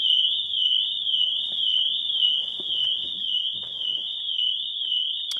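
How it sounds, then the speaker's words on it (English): Pandora aftermarket alarm sounding on a Lexus RX 450h hybrid, a steady warbling electronic tone held continuously throughout, loud and close, with faint clicks and handling noises beneath. "the alarm's gone off"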